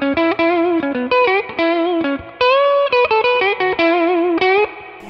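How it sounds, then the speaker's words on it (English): Clean electric guitar through an EP Booster pedal set to vintage mode, playing a melodic line of picked notes with clear, ringing harmonics, loud and close, with no talking. "Now here's what it sounds like with the EP Booster on vintage mode."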